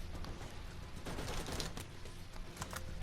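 Turrets firing in the video game Borderlands 1, a steady rattling stream of rapid automatic shots with sharper bursts in the middle, loud and continuous throughout.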